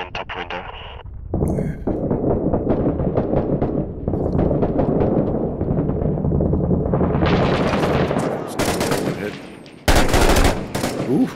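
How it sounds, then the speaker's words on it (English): Sustained automatic gunfire from a realistic first-person shooter video game, loud and dense with rapid bursts and overlapping shots, louder blasts near the end, and voices talking over the shooting. "Shots coming in top window."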